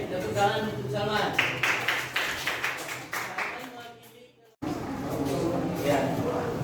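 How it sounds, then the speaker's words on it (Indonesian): Applause for Salman at a teacher performance exam session: a room of people clapping steadily, with a dip and brief pause before the clapping resumes. "tepuk tangan untuk Salman"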